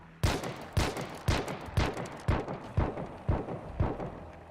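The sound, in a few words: gunfire in a video game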